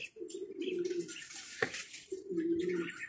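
Pigeons on a rooftop coo in two long, low, rolling calls separated by a pause, fairly close, with faint chirps and background noise.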